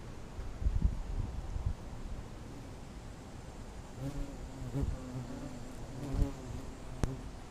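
Hornets buzz steadily inside an opened nest with three combs, a dense low drone with louder wingbeat surges near the microphone and a few sharp knocks and clicks.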